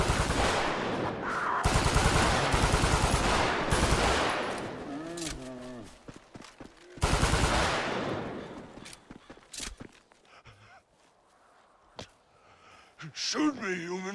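Rapid automatic gunfire from GTA 5 in loud repeated bursts, separated by short pauses and quieter stretches, with voices speaking between the volleys.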